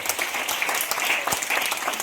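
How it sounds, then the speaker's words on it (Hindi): An audience at a motivational training session applauds for a young woman named Komal, a brisk burst of many hands clapping close by, steady and lively for a couple of seconds. "कोमल के लिए भी ताली होनी चाहिए"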